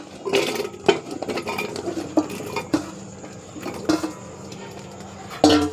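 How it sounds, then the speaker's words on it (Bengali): Cut, washed potato pieces tumble into a metal cooking pot in a home kitchen, giving knocks and clatters against the pot with light rattling and scraping, a few sharper clanks standing out, close by and without talk. "আগে এই যে কাটা ধুয়ে রাখা আলুটা দিয়ে দেবো।"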